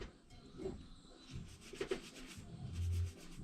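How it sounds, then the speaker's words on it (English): A rag wipes excess Plastigauge off an engine part with brake cleaner, giving soft, close rubbing and scrubbing strokes at low volume, with a brief squeak or two. "let me clean off this excess plastic gauge. I just use a little bit of brake clean"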